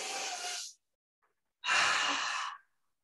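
Two deep, slow breaths during a yoga session, each a long, soft airy exhale of about a second, separated by a short silence, close and alone with no talk.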